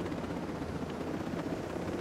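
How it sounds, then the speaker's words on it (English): Helicopter in the video game Ghost Recon Breakpoint, a steady rotor drone with rapid low chopping, loud and continuous with no talk over it. "Oh, there is a helicopter here."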